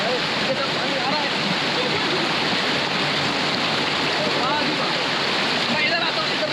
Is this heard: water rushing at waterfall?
yes